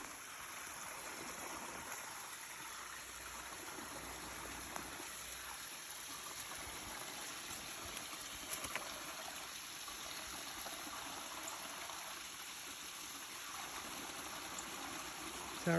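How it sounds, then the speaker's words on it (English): Steady, faint rush of a small seasonal creek waterfall flowing over rocks, a continuous wash heard from some distance with no voices. "I was pretty sure that our waterfall would be flowing, and I can hear it."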